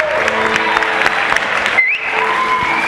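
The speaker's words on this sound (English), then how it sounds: "Big round of applause." Audience applause breaking out after a talk at a happy-hour gathering in Brooklyn, a dense steady clapping from a nearby crowd that carries through the whole stretch with a brief dip near the end.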